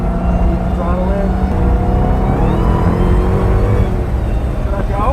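Car engine pulling hard on a race track, a loud steady roar with rising whining harmonics as it accelerates, continuous and close throughout, with voices faintly under it.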